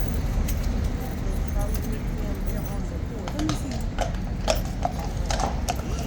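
Horses of the Horse Guards in London clip-clopping on hard ground nearby, with irregular hoof strikes and a brief restless moment from one horse, mixed with people talking in the background.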